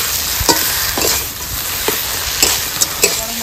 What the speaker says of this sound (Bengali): বেশ নাড়াচাড়া করে ভেজে নেবো।